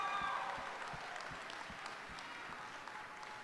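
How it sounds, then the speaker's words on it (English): Audience at a 2021 commencement ceremony applauds the graduating seniors, a steady wash of many hands clapping at a distance, fairly quiet and even throughout with no voices on top. "Let's give our seniors another round of applause"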